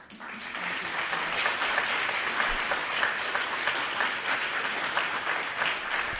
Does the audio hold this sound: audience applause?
yes